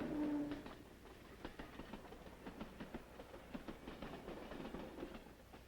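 A Southern Pacific freight train rumbles along the track with a steady run of rhythmic clicks and clacks from the rail joints, fairly close, with no voices.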